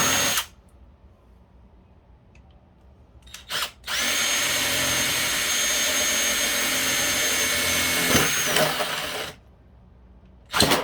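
Power drill boring into a PS3 console casing, two short high whirring bursts followed by a long steady grinding whine of about five seconds, close and loud, with quiet pauses between and no talk.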